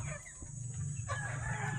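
Chickens on a backyard farm cluck while a rooster crows partway through, all fairly close over a low steady hum.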